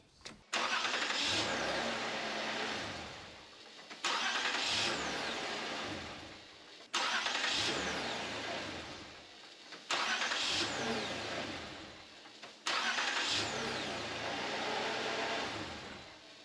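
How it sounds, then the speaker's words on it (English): A 2009-2015 Toyota Venza engine is cranked and started five times in a row after a starter motor replacement, each start a loud burst that settles into a brief idle before cutting off. "let's go ahead and start it up."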